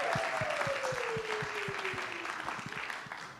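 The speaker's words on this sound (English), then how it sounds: "that's Kirsten and Emily, so let's give them a round of applause as well." An indoor crowd gives soft, distant applause of even density, with a regular rhythmic thumping and a falling tone underneath.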